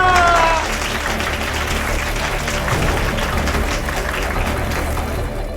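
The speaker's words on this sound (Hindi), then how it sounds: "तालियां!" Studio audience applause on a Hindi TV contest show, a dense, steady wash of clapping that holds loud for the full length, with a brief tonal music sting at the start.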